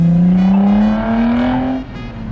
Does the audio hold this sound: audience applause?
no